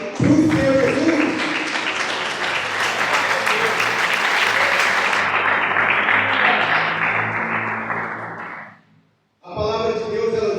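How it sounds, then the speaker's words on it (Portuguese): A church congregation at a prayer-circle service applauds loudly and continuously for several seconds, a dense, sustained roar of clapping that fades out, followed by a short pause and then a voice speaking. "A igreja pode acertar e as palmas são bem fortes para o Senhor Jesus."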